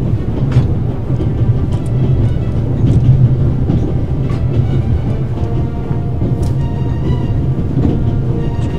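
A train in the video game The Raven: Legacy of a Master Thief rolls along steadily, a loud continuous rumble with rhythmic clacking of wheels on track and no voices.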